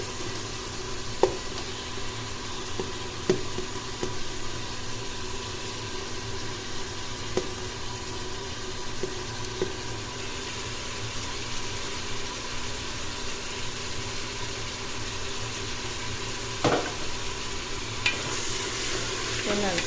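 Onions and tomatoes fry in a pan for a meatless 'mutton' curry, giving a continuous low sizzle with occasional light utensil taps and scrapes as they are stirred, steady and unhurried, with no speech.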